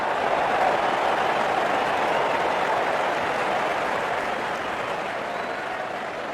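Broad, steady crowd roar of cheering and applause from a cricket video game, an India versus Pakistan match, sustained and loud throughout, fading slightly toward the end.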